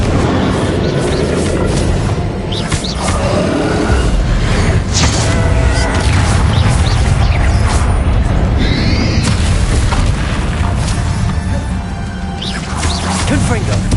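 Spell explosions from Confringo casts in Hogwarts Legacy combat, repeated heavy booms and crashes amid a busy, constant battle din, with voices shouting during the action.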